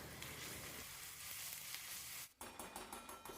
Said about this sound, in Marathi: यामध्ये आपण वाटलेलं मसाला घालूया मसाला थोडं परतून घेऊया